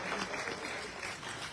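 Dense, steady applause from an audience at an album launch event for a gospel rap artist, filling a short burst with close, even clapping.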